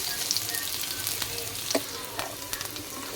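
Chopped onion and ginger cook in a pan without oil, giving a soft, continuous sizzle with light stirring clicks and scrapes close by.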